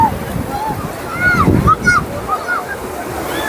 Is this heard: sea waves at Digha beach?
yes